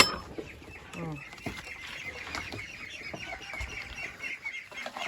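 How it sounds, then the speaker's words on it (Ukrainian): Several chickens cluck and squawk nearby in irregular bursts, with scattered rustling and faint background voices. "Зараз будуть тікати. І ті кури, і качки."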